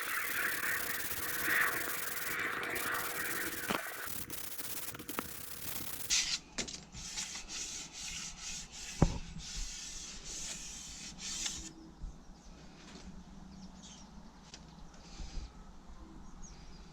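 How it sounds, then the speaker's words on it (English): Steady abrasive scraping and rasping of sanding a narrowboat galley porthole liner, close and continuous, with a brief shift in tone partway through and occasional knocks. "So I'll get on with a bit of sanding."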